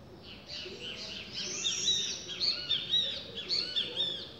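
A sabiá thrush sings outdoors, a string of bright, rapid whistled chirps and trills coming in quick bursts over a faint background hiss, with no voices.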